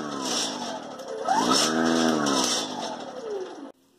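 A Snow Joe lithium battery-powered two-stage snowblower with a brushless motor spins up, its whine rising in pitch and holding steady for about three seconds before cutting off abruptly near the end.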